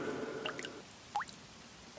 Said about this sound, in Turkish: Damlaya damlaya su birikiyor.